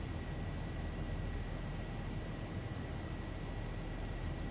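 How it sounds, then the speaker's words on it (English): Zibo Boeing 737-800 jet engines accelerating in the X-Plane 11 flight simulator: a steady, loud, unbroken broadband roar with faint high whining tones running through it and no voices. "Hear the engine note change there."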